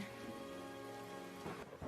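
Pouring rain hisses steadily with a low rumble of thunder underneath, a brief dense wash of storm sound with a faint swell near the end.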